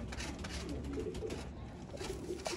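Pigeons of the Mian Nazir bloodline coo in a loft, a steady low murmur of overlapping calls with soft flutters, close and continuous throughout.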